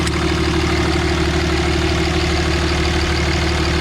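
A 2007 Dodge Ram Mega Cab with the 5.9L diesel engine idles nearby, a loud, steady low rumble with an even rhythmic clatter and no pauses.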